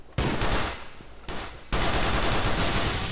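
Pistol gunfire in the video game GTA 4: The Lost and Damned, with a few loud, close shots in quick succession that leave a dense, ringing wash of noise.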